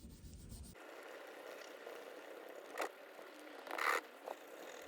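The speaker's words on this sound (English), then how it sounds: "Now we clean the polishing compound off with this, which is actually a silver cloth" A mildly abrasive silver cloth polishing the frets of a Squier Jaguar guitar fitted with quarter-tone frets, soft faint rubbing with a few louder short scrapes and swipes near the end, close by and with no talk.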